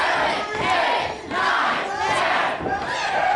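A wrestling crowd chants loudly in rhythmic unison, counting along with punches in the ring, with swelling waves of voices from a packed indoor audience.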